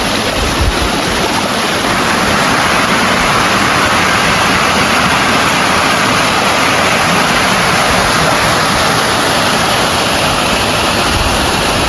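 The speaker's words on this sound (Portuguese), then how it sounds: "cachoeira de Sofazinho. Vou chegar mais pertinho dela." Heard from close range, the Sofazinho waterfall in the Serra da Canastra near Delfinópolis pours in a loud, unbroken roar of crashing water, a dense broadband rush that stays constant throughout with no voices.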